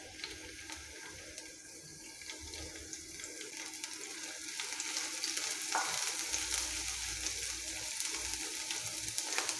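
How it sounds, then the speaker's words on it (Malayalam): Green chilies frying in hot coconut oil in a pan give a steady close sizzle and crackle that grows a little louder halfway through, with faint stirring scrapes and no talk. "എണ്ണ ചൂടാവുമ്പോൾ നമുക്ക് പച്ചമുളക് ഇട്ട് കൊടുക്കാം."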